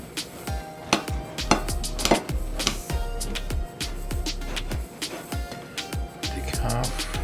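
A knife cuts a honey glazed ham in half in a home kitchen, with sharp clinks and taps of metal against a plate or pan coming at an uneven pace, close by and fairly loud.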